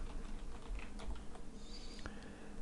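Quiet, quick keystrokes on a computer keyboard while text is typed, a soft, irregular patter of clicks close to the microphone with no voices.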